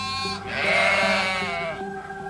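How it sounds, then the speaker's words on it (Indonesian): A goat at the edge of a village bleats once in a long, wavering, nasal cry that swells and then trails off, loud and close, with no other sounds around it. "terdengar suara kambing yang seolah merengek meminta jatah untuk makan"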